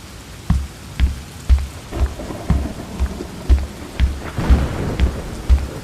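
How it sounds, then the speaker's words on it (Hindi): Heavy rain pours steadily outdoors while repeated low thunder rumbles and cracks roll in roughly every half second to second, loud and close, with no voices. "बाहर इतना जोर जोर से बारिश हो रहा है"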